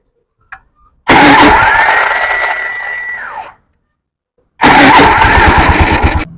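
A Honda Activa scooter is kick-started and fires up at once, running with a loud, steady buzzing engine note for a couple of seconds before cutting off, then starting again and revving just as loudly.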